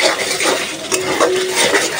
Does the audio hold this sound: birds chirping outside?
no